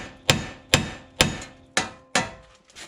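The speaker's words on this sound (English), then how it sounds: "we're gonna hit the control arm right there, or the knuckle, so we can remove this ball joint from the mounting area" Five sharp metallic hammer blows strike a car's steering knuckle to free a lower ball joint on a 1997–2005 Lexus GS300/400/430, evenly spaced about half a second apart, loud and close with short ringing decays.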